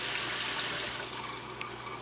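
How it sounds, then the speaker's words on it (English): Rinse water drains from escarole in a kitchen, a steady, close rushing gush of water running continuously with only slight variation and no voices. "I'm going to drain this water now."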